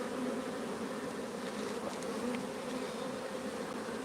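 Honey bees buzz steadily inside a full hive crowded with capped brood, a dense continuous drone close by and alone, with no voices.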